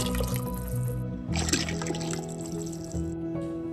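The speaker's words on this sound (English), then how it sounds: "I will now transfer some of the broth back to the pot with the cloudy liquid." Broth for Vietnamese spicy beef noodle soup is poured back into a pot of cloudy liquid, giving a steady close watery pour and trickle with splashy dribbles throughout, without talk.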